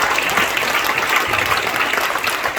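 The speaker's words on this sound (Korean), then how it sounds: "일단 먼저 박수 한번 주시죠." An audience breaks into sustained applause at a Korea–Israel event, a dense, even clatter of many hands clapping throughout, loud and close with no voices over it.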